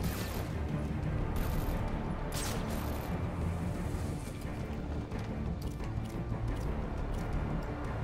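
Gunfire rattles in Batman: Arkham Origins during a bank level, a dense, sustained volley of shots and crashes that runs continuously with no talking.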